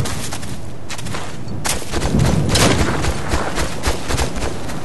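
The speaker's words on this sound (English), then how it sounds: "Shots fired!" Gunshots and rifle fire in the military shooter game Operation Flashpoint, a rapid string of sharp cracks and bursts that grows denser and louder midway, with faint background chatter.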